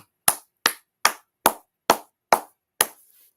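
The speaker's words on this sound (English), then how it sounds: "All right, clap it up, clap it up" Seven sharp, evenly spaced claps ring out close and loud in a class setting, each with a short decay into silence.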